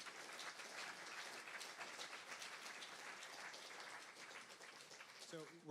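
A concert audience at a live music venue claps steadily for a performer, dense applause at low level with a brief voice near the end.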